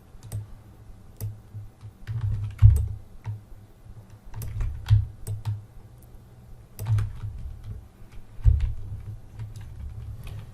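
Computer keyboard typing while working in Photoshop: scattered close clicks and key taps in irregular bursts, some louder thumps, with no talking.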